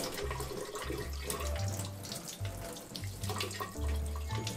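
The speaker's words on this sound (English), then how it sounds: "under cold running water, wash the excess sauce off" Cold tap water runs steadily over an eel (unagi) being gently washed of excess sauce in a sink, a continuous close hiss and splash with low irregular rumbling, no voices.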